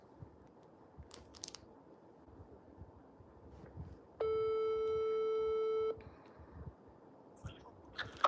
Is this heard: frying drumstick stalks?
no